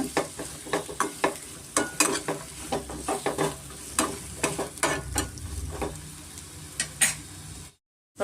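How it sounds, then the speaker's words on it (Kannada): Thinly sliced radish with turmeric frying in a little oil for radish chutney: rhythmic spatula scrapes and knocks over a bubbling sizzle, stopping abruptly into silence just before the end. "ಸ್ವಲ್ಪ ಅರಿಶಿನ ಹಾಕಿ ಸ್ವಲ್ಪ ಎಣ್ಣೆನಲ್ಲಿ ನಾವು ಫ್ರೈ ಮಾಡ್ಕೋಣ"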